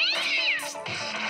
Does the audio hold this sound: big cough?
no